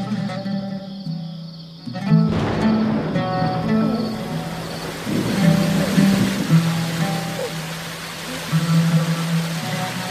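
Steady rain falls in an outdoor film scene, a continuous wash of noise under low tonal music, swelling around the midpoint and holding at a moderate level to the end.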